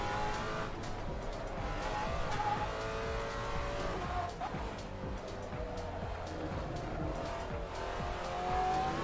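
Steady loud race car engine drone in the Assetto Corsa racing game, continuous roar with tire and road noise underneath and no clear pauses.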